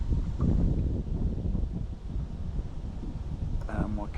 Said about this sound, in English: This wind is blowing really hard